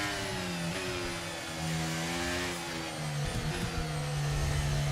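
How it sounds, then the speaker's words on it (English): A Red Bull Formula 1 car in the F1 23 video game whines along at a steady high-pitched engine tone, the pitch dipping and rising through gear changes, with no speech. "Even the Red Bull has this completely different engine sounds."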